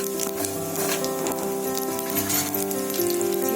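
Fenugreek and cumin seeds sizzle and crackle steadily in hot oil for a Pundi chutney, a close, continuous frying hiss with scattered pops over a faint steady hum.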